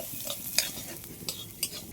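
Poppy seeds and black mustard are stirred in a kadai with a spoon, giving quiet scraping and a few light clinks over a faint sizzle.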